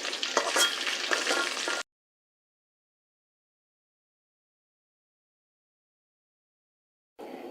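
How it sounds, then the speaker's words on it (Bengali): Fish fried reddish-brown in hot oil gives a loud, crackling sizzle for about two seconds, then silence, before the frying hiss returns briefly at the end. "মাছগুলি আমার প্রায় লাল লাল করে ভাজা হয়ে গেছে"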